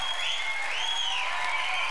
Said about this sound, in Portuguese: Uma salva de palmas para Marcelo Menos